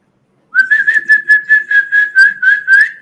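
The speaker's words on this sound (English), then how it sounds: "that is not my mom's whistle" A single person whistles a steady, warbling tune in quick pulsed bursts to call animals, loud and close, with no talking over it.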